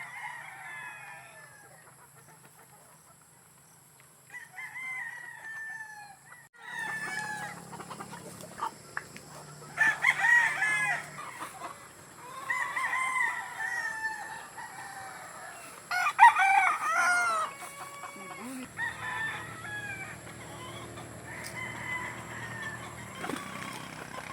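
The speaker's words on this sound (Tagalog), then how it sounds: "magpatuka si Richard ng mga manok sa range area" Chickens in a farm range area cluck and chatter while roosters crow several times at moderate distance, the calls overlapping over a faint steady background.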